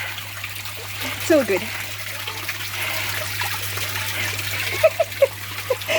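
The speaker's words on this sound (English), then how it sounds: "There's water getting into that bed now" Water trickles and splashes into an aquaponics grow bed in a steady, close wash with a constant low hum, while someone talks over it.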